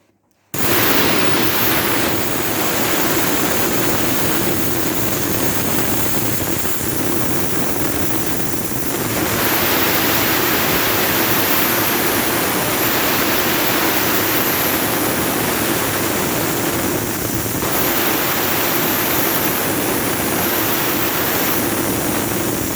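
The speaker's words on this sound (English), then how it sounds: "and then air compressor working" An air compressor, recently rewired, runs continuously with a loud, steady broadband roar and rushing hiss that fills the whole stretch without a break.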